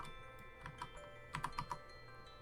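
Quiet, close clicks of typing on a computer keyboard come in short irregular bursts, with a cluster of quicker taps near the middle and a faint steady hum behind.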